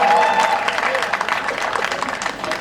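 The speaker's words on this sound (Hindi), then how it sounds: "तालियां बजा दीजिए जोरदार।" A live audience at a Hindi stand-up comedy show claps loudly and steadily for a few seconds, the applause gradually thinning, with a voice over it.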